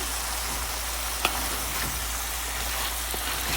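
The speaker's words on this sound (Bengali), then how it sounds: "শিম দিয়ে নেড়ে চেড়ে আবার আমি ঢেকে দেব" Beans and potatoes sizzle and fry in a pan while being stirred, a steady close hiss with a few faint scrapes and clicks, no voices.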